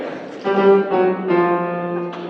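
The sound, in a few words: short orchestral opera motif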